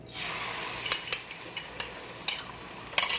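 Eggs and sausages fry in a pan with a steady soft sizzle, punctuated by several sharp clinks of a utensil against the pan.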